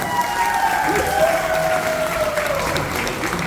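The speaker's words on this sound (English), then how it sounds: "how about all of you give me a big round of applause?" A crowd gives a big round of applause during a live show, dense, steady clapping throughout with a tonal hum underneath.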